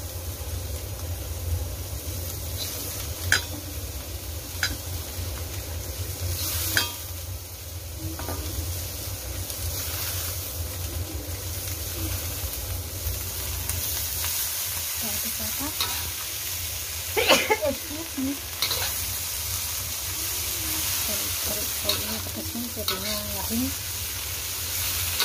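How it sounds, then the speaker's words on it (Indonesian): Bean sprouts and wilted chilies are stir-fried in hot oil, a loud continuous sizzle running throughout with scattered scrapes and clinks of a spatula in the pan. "Setelah cabenya layu, kita masukin taugenya."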